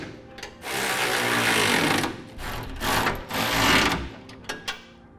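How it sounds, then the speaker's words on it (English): Power tool tightening trailer hitch bolts to the frame of a 1986 Chevrolet while fitting a B&W heavy-duty hitch receiver, with several sustained whirring runs separated by short pauses and ending in brief bursts. "We'll go ahead and tighten our bolts to our frame first"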